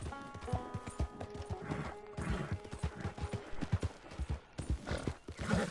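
In the video game Red Dead Redemption 2, hooves clip-clop rapidly and unevenly while a horse whinnies and snorts, agitated and close, with a soft tonal hum behind.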